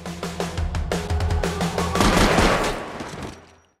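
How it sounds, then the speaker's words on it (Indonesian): Gunfire in a film scene where two men shoot a man without warning, a rapid fusillade of loud, close shots crackling over a couple of seconds before trailing off into echoing decay. "Agus dan Gondel datang dan tanpa basa-basi langsung menembak Roman"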